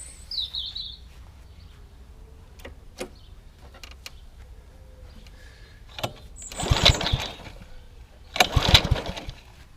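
Pull-start attempts on a Honda 553 Lawn Flite Pro mower engine, two short rough bursts of cranking that fail to catch, heard over quiet outdoor background with birds chirping.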